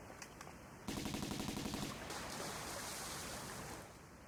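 Water and boat effects from Tomb Raider 1's Sanctuary of the Scion level: a loud, steady rush of churning water with a rhythmic low throb. It starts abruptly after a quiet moment and then settles into a sustained wash, with no voices.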